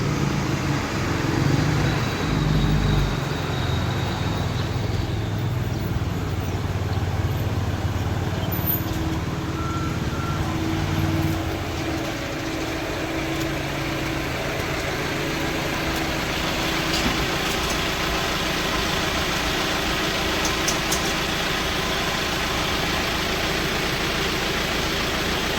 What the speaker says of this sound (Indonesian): ini giliran truknya petani alit untuk masuk di jembatan